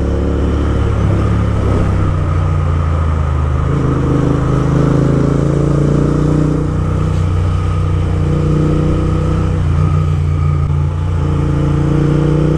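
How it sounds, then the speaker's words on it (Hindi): A Royal Enfield Interceptor 650 motorcycle fitted with a loud Gursewak exhaust rumbles steadily and close for the whole stretch, a deep, continuous engine drone with slight swells in revs and no talking. "क्योंकि ये एग्जॉस्ट की मजा ही अलग है।"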